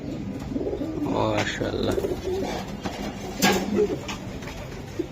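Racer pigeons coo softly in the background while someone talks over them, with a louder bird call standing out near the end.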